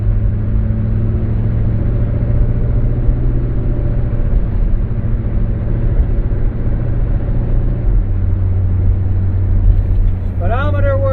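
Steady engine drone and road rumble fill the cab of a 1986 M1008 truck while driving, a constant low hum and vibration throughout, with a brief higher squeal near the end.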